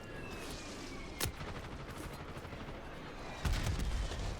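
Faint, distant gunfire crackles through the Warzone battle royale match, with scattered shots and a couple of louder sharp reports standing out against a steady low background.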